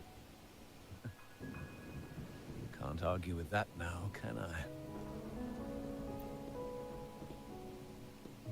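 Rain falls steadily as a soft hiss in the game Wuthering Waves, with a low rumble of thunder rising in the middle; a voice speaks over the storm.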